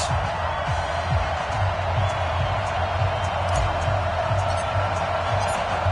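A stadium crowd roars in an EA Sports NFL video game as the New York Giants meet the Houston Texans, a dense steady wash of cheering noise heard under a commentator's voice.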